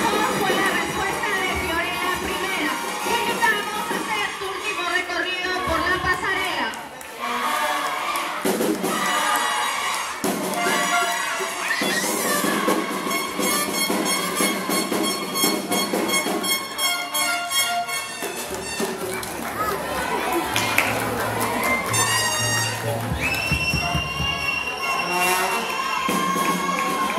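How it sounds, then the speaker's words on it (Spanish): An audience at a pageant cheers and applauds in a loud, unbroken wash of crowd noise, with shouting voices and tonal, music-like sounds mixed through it. "¡Fuerte los aplausos!"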